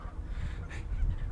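Geese honk outdoors at a moderate distance, a brief call standing out over a low rumbling background.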